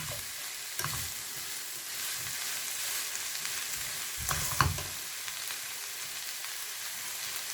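Chicken and vegetable spring roll filling is stirred in a hot pan: a steady close sizzle with a few sharp scraping stirs at the start and middle, no voices.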